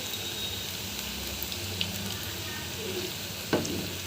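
Black-eyed pea vadas (alasanda garelu) frying in hot oil give a steady, dense sizzle throughout, with a couple of brief clinks and a sharper bump near the end, no voices.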